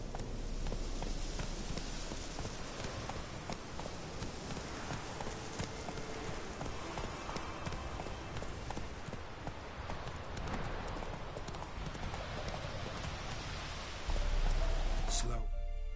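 Roach, a horse in The Witcher 3: Wild Hunt, gallops with a fast, steady clip-clop of hooves under a constant rainy hiss, moderately close and even throughout, with a brief louder burst at the end.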